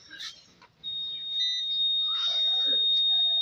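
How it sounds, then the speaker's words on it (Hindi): An IGBT circuit board under test gives off a single steady high-pitched electronic beep that starts about a second in and holds to the end, quiet and close, with light handling noise and faint background sounds. "अभी हम आपको ये बीप का आवाज़ सुनाते हैं"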